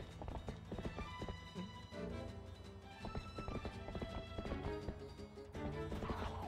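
Hoofbeats clip-clop steadily through Zelda: Twilight Princess HD on Hero Mode, with a horse whinny mixed into busy game music and effects, loud and continuous throughout.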